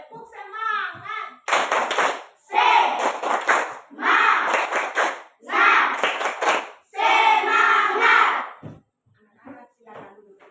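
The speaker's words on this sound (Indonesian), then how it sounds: "Anak-anak diminta untuk tepuk semangat." A classroom of children performs a rhythmic spirit clap (tepuk semangat) during a lesson, clapping in five loud, patterned bursts with short pauses, mixed with their chanting voices, after a teacher's brief instruction.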